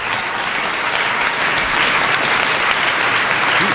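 Sustained applause from an audience at a public forum with a senator, dense and loud clapping filling the whole stretch without a break.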